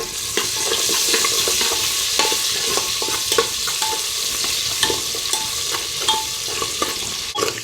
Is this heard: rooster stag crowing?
no